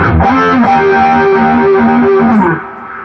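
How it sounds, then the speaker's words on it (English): A guitar amp driven at maximum gain gives a thick, buzzing distorted tone: a sustained chord rings loud and steady for over two seconds, then drops away into a low residual hum. "that's as much distortion as you can get out of this amp"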